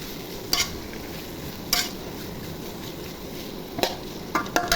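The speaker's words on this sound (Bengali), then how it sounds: "কাঁথা দিয়ে নেড়ে ছেড়ে দিব।" Snake gourd fries with onion in a pan and is stirred with a spatula. A constant close sizzle runs under sharp scraping clicks that come every second or so.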